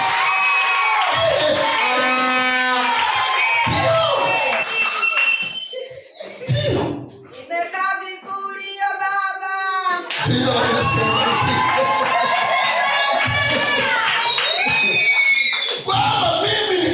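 A church congregation at a sermon by Rev. Daniel E. Manga cheers and shouts loudly, with a brief dip midway before the raised voices and whoops swell again.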